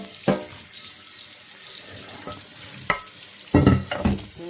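Water drains from a sink with a soft continuous gurgle, broken by several sharp clunks and splashy bursts near the end.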